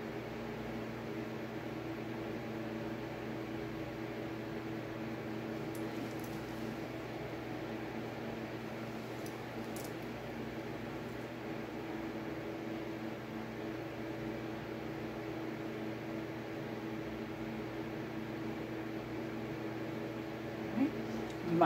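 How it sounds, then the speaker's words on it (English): A fan hums steadily in the background of a quiet room in summer, an even, low drone throughout with faint small sounds of painting on top. "You might hear a fan in the background."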